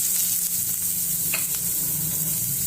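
Onions fry in hot oil with cumin, giving a loud, dense, unbroken sizzle up close, with a faint low rumble beneath and a brief tap midway.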